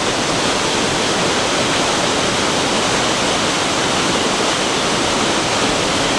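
A waterfall rushes over rock in a Scottish glen, a steady, loud, broadband roar that stays constant and close throughout with no voices.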